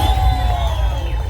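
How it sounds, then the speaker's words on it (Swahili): A church congregation welcomes its chairman with a dense, loud wash of applause and crowd noise, with high whooping cries riding on top, unbroken for the whole short stretch without any speech. "tuwakaribishe wa chairman kwa makofi mazuri wa Binulia chairman."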